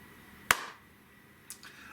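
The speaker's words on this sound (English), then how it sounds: "Magic clap." A single sharp hand clap rings out alone in a quiet room, followed by a fainter second tap a second later.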